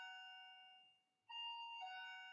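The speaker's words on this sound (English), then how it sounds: "That's my doorbell." A doorbell chime rings clearly: a fading tone, a brief pause, then a bright two-note ding-dong, close by and alone.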